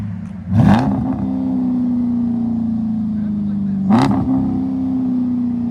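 A 2022 Dodge Durango R/T's 5.7-litre HEMI V8 idles deeply and revs sharply twice, about three seconds apart, its rumbling exhaust with resonators settling back after each rev.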